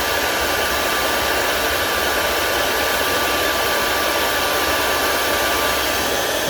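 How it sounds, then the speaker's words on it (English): A hair dryer blows steadily at close range while blowing crumbs off a clay piece, a constant loud whooshing hiss with a faint motor whine and no breaks. "The reason I use the hairdryer is it"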